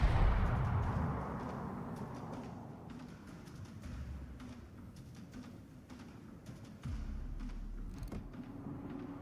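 Naval gunfire in World of Warships: a heavy boom at the start that rumbles away, then a low distant rumble with scattered faint clicks and a second dull thud later, no voices.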